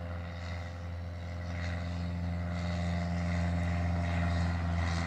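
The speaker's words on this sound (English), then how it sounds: "Look, up in the sky, it's a bird. It's a plane. It is a plane." A propeller airplane drones overhead, a steady low engine hum that swells slightly louder as it passes, with no talking.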